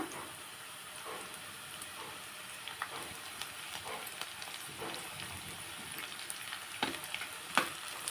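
Onion greens fry in a pan with a steady sizzle, while a spatula scrapes and stirs in irregular close clacks throughout.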